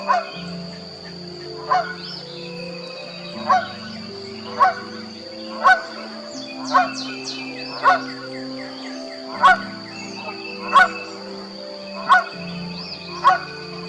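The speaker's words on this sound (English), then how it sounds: "A goose swims by calling out as if he was looking for something." A swimming goose honks repeatedly at a steady pace, about one call every second, carrying clearly over a low engine-like hum at a Texas state park lakeside.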